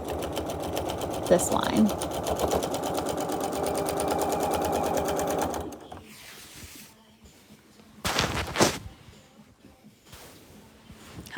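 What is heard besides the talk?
sewing machine quilting, stitching down a line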